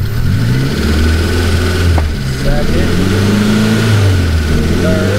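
A kei truck engine revs up and drops back repeatedly while being run through the gears, with steady mid-pitched drone and rising pitch sweeps, loud and close with a voice talking over it.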